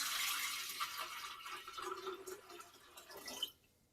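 Water poured from a liter measure into a glass fishbowl splashes and trickles steadily for a few seconds, quiet and close, then cuts off abruptly.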